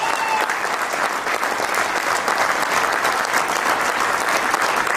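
A large audience at a token launch event in Jaipur claps for Gujarat, giving dense, sustained applause that stays loud and even throughout.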